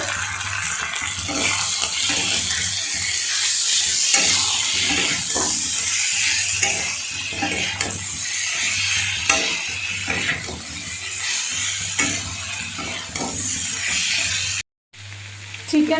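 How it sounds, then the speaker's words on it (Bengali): Chicken fries in a pan with a little sauce, with a steady loud sizzle and bubbling plus occasional stirring scrapes throughout, cutting off briefly near the end. "সামান্য একটু সস দিয়ে আবার খানিক্ষণ ভাজবো"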